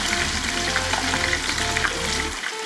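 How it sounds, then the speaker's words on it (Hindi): Chicken pieces for Lahori chargha frying in hot oil in a pan, a loud continuous sizzle with bubbling and occasional spoon stirring, close up and without talk. "अब इसके अंदर इसको इस तरह फ्राई कर लेंगे।"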